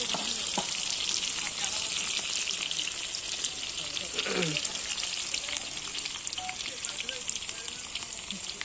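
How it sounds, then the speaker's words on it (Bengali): Onions frying in oil in a pan while cooking aloo dum, a steady dense crackling sizzle running throughout at moderate loudness with a few faint clinks. "এখানে পেঁয়াজ ভেজে নেবো আমি প্রথমে"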